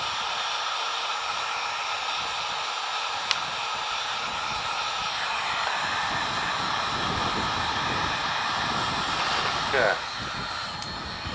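A heat gun blows a continuous hissing roar while warming PVC pipe to bend a bushcraft pack frame, steady throughout with a brief spoken word over it.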